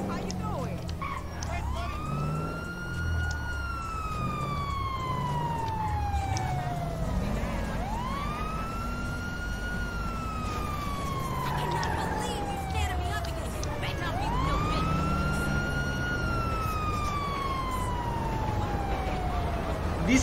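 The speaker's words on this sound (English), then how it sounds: "Police car drunk or something?" Police car siren in Grand Theft Auto V, a wailing rise-and-fall cycling about every seven seconds at moderate distance, under game sounds and talk.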